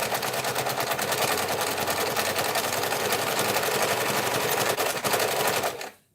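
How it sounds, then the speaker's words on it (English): A sewing machine edge stitching a tote bag strap runs in a loud, steady rapid rattle for several seconds close by, then stops abruptly near the end. "I'm edge stitching this strap"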